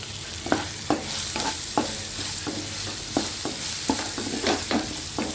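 A spice paste of cumin, curry leaves and turmeric frying lightly in a pan with a steady close sizzle, punctuated by regular scraping and clinking strokes of a spoon stirring.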